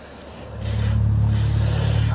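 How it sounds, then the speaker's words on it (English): A steady hiss of an aerosol can of WD-40 lubricant spraying, starting after a short pause and continuing evenly, close by. "I'm going to spray it this time, just being careful."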